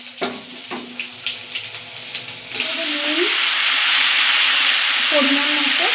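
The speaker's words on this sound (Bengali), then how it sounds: "আলু আর পেঁয়াজ কুচি করে কেটে ভালো করে ধুয়ে রেখেছি, এটাকে আমরা এর মধ্যে হালকা করে ভেজে নেব" Chopped potato and onion hit hot oil after a few clinks and stirring sounds, then burst into a loud, continuous sizzle that keeps going steadily to the end.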